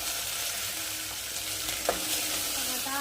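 Green masala and coconut frying in hot oil, a steady close crackling sizzle with a faint scrape of a spoon, no talking.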